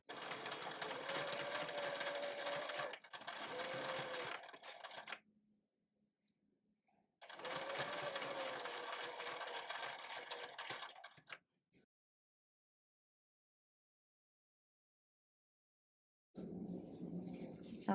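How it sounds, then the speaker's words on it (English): Sewing machine stitching down the back of fabric while hemming an Encanto Isabela dress, running in two loud sustained bursts with a pause and a brief restart at the end, heard alone without talk. "Making sure I catch the back of the fabric when I'm stitching down."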